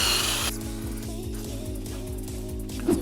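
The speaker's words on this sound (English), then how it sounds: "wire wheel off that Canadian rust" A power-driven wire wheel grinds rust off a 2015-2020 Ford F150 brake hub, a steady close whirring hum with a rapid pulsing rattle, briefly loud at the start and continuing alone.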